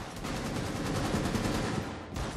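Rapid bursts of automatic gunfire in Rainbow Six Siege rattle on continuously for about two seconds, a dense pulsing rattle at moderate loudness with no voices over it.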